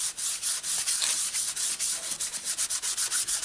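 An eraser or cloth rubs a stray mark off a card for Stampin' Up Graceful Garden stamping, a close, steady series of quick back-and-forth scrubbing strokes with no voice.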